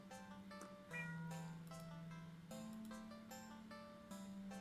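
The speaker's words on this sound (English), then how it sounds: "the cat meows almost swiftly at you" A cat gives a series of drawn-out, tonal meows with shifting pitch, close and fairly clear, one after another with short gaps and no talking.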